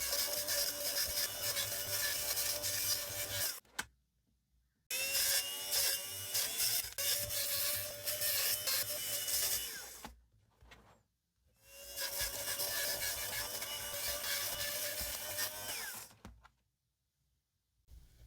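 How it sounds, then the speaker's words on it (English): An electric sweater shaver buzzes and rasps against the fabric of an old Vans shoe, rubbing it in three long, loud stretches broken by short silent pauses. "I had a little bit of difficulty getting such a big sweater shaver into the small area of the shoe"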